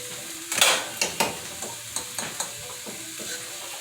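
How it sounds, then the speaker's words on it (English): Vegetables being stirred in a hot skillet, making a steady sizzle with several distinct scraping strokes of a utensil against the pan, close and clear with no talking. "Stirring up."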